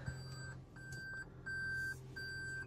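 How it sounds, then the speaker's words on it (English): Steady electronic reverse warning beeping from a 2019 Toyota Prius Limited repeats at an even pace, several evenly spaced tones over a low background hum, moderately faint. "I don't know why it keeps beeping."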